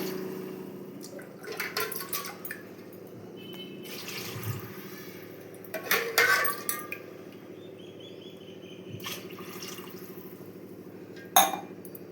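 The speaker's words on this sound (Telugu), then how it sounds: "త్రీ గ్లాసెస్ వాటర్ పోసాను త్రీ అండ్ హాఫ్" Water poured in splashing bursts into a pot of rice being cooked for chicken biryani, with a low steady kitchen hum underneath and a few louder clinks and sloshes standing out near the middle and end.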